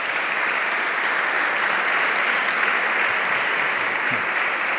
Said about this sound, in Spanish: Vamos a aplaudirles para arrancar.